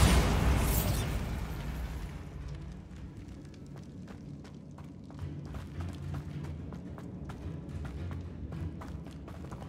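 Bombarda spell explosions in Hogwarts Legacy open with a loud burst that fades over two seconds. Sharp pops and thuds follow, scattered unevenly at moderate volume over a dull background.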